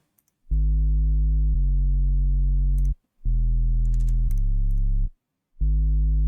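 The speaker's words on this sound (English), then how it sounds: "Which is just a sine wave in Serum with the tube distortion on, and then I'm low passing that." A deep, buzzy sub-bass tone from a sine wave in Serum, low-passed with tube distortion, plays in sustained notes that step between pitches, with brief gaps, alone and loud, its harmonics gritty.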